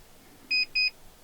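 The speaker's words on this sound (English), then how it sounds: "So you get 2 beeps. That tells you the battery's good." A LevelMate PRO RV leveling device powers on with two short, clean electronic beeps in quick succession, crisp and close against a quiet background.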